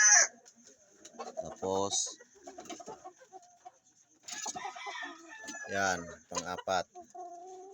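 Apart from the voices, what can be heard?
fighting cock roosters clucking and crowing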